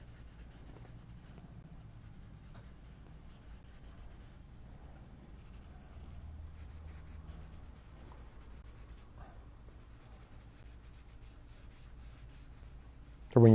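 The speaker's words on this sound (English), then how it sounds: "when you're blending, you're just moving the charcoal around on the paper, really" Charcoal is rubbed and blended across paper in a soft, continuous scratchy scrubbing, faint and close, steady for many seconds with no voices, ending in a brief louder bump.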